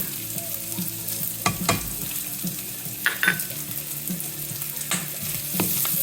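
Garlic fries in a hot pan with bacon, a steady close sizzle broken by several sharp clinks and scrapes of a utensil stirring against the pan.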